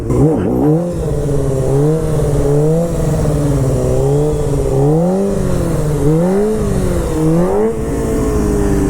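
A motorcycle engine held at idle: a steady, close, loud low rumble with gentle wavering rises and dips in pitch, heard alone without speech.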